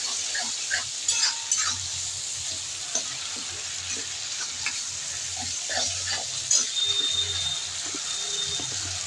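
Spice paste of cumin, chili, turmeric and ginger, soaked beforehand, sizzles steadily in hot oil, a continuous close hiss with occasional stirring clinks and scrapes, no voices.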